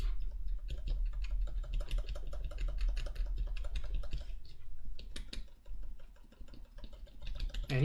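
Repeated presses of the left shift key on a Tina-C MX HHKB keyboard with lubed Ergo Clear switches give a fast run of close clacks, with a brief pause partway through.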